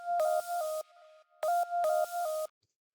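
An FL Studio counter melody processed with a ShaperBox delay effect plays as bright synth tones in choppy, rhythmic bursts with short echoing tails between phrases, ending abruptly in silence.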